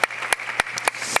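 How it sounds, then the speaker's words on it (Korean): A church congregation claps during a worship service, with a handful of sharp, separate claps in a loose rhythm rather than a full sustained ovation. "우리 큰 박수로 장로님께 감사의 마음을 담아서 우리의 마음을 표현해 보겠습니다."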